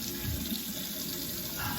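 A tap runs steadily into a sink to rinse after a straight razor shave, a constant close splashing rush with no talking over it.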